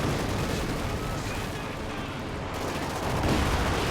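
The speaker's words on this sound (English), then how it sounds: "So rockets are just going in." Soviet Katyusha rockets slamming down in the World War II strategy game Company of Heroes 2, a dense continuous roar of rumbling impacts and crackling blasts, loud and sustained, with no voice over it.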